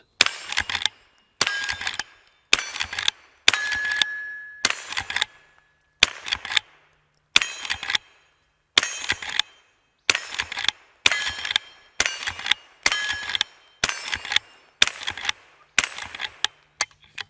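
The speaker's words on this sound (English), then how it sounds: "If you were counting, that was 15 rounds of 22 long rifle" Henry H001 Classic lever-action rifle firing .22 long rifle rounds, fifteen sharp cracks at a steady pace with brief metallic lever clacks between them, close and alone.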